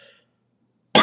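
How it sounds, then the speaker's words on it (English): A single sharp, loud cough right up close, bursting out after a stretch of near silence. "I got to cough, man"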